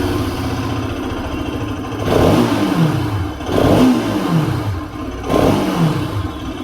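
A Bajaj Pulsar 200 sports motorcycle engine idles with a throaty rumble and is revved up three times, each rev surging loudly and then dropping back down.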